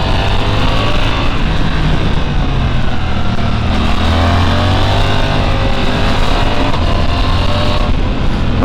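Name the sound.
Suzuki GSX-8S motorcycle engine revving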